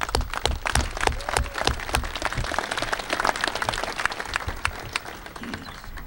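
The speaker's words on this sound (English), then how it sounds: "There's a huge round of applause for all the partners," An audience at a highway safety and motorcycle awareness event bursts into steady applause, a dense rush of many hands clapping at moderate volume that stays sustained throughout with no talking.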